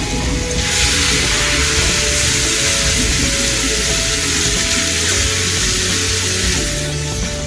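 Beef, about three pounds, browning in butter in a hot pan gives a loud, steady broadband sizzle that holds from the first second to the end, with a low rumble of background noise underneath.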